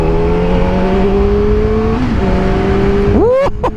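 A Kawasaki Ninja ZX-4RR motorcycle engine idles up close in a loud, steady droning hum, then a quick throttle blip near the end makes it rise sharply and cut off.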